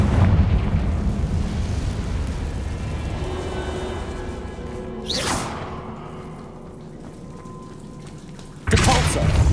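A Confringo blasting spell in Hogwarts Legacy goes off as a loud booming explosion with a whooshing burst mid-way, over a rumbling battle bed, followed by another sharp blast at the end.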